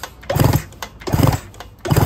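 An old, long-stored Kawasaki 750SS Mach motorcycle engine cranks in three loud, rhythmic bursts of churning mechanical chatter, close by.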